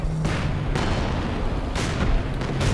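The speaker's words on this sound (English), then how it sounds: "5 artillery into the center" Artillery shells pound the battlefield in a Company of Heroes 2 two-versus-two match, with four heavy booming blasts spaced irregularly over a continuous rumbling bed of distant gunfire.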